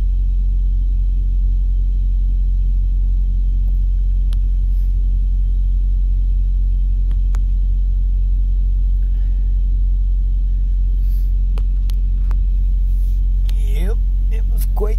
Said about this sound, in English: Plow is just spinning his wheels.